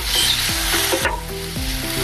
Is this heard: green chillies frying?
yes